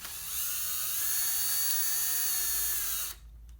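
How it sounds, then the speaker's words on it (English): A small magnetic power drill whines at a high, steady pitch for about three seconds, close by, drilling out a small screw, then cuts off and spins down into quiet. "gotta love a magnetic drill"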